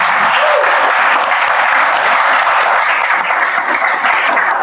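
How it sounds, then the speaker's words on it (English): A Toastmasters meeting audience gives a speech a warm round of applause, with full, continuous clapping at a steady level for nearly five seconds. "please applaud."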